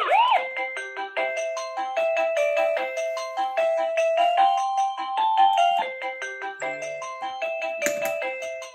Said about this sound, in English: you can actually program a different doorbell to sound a different chime when it's programmed